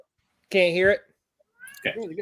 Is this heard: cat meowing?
yes